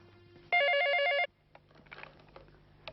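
A telephone rings once with an electronic warbling tone lasting under a second, standing out over low background noise and faint clatter afterward.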